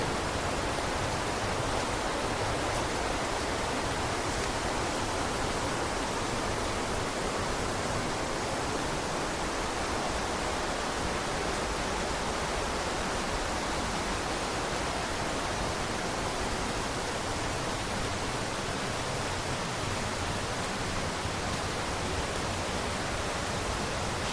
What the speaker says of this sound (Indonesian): Lihat aliran sungai